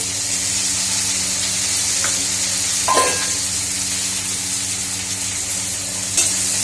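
Steady sizzling of food frying in hot oil, with a few soft stirring scrapes and clinks; no talking.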